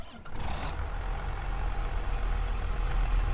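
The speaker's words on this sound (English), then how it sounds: "Motor runs smooth." Tractor engine in Farming Simulator on a custom American dairy farm map, running steadily with a continuous low rumble and no talking.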